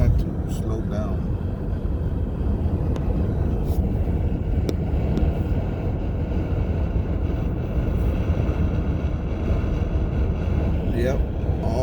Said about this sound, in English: Yep, all that is wind noise.